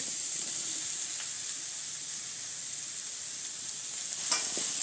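Onions frying in a pan for a Kerala-style beef roast, an even, continuous hiss of sizzling oil with a faint stir near the end, fairly quiet and with no voices.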